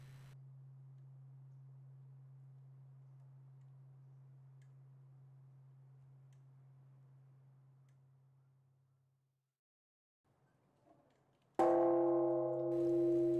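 Buddhist temple bell at Enshoji, rung daily to mark the hours: a long, low sustained hum fades out over several seconds, then after a pause a bright new strike rings out loud with rich tones.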